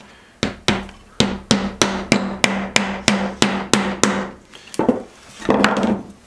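A hammer taps a nail into the notch at the end of a threaded rod for a homemade long-reach clamp. About a dozen sharp, evenly spaced close strikes are followed by a few looser knocks.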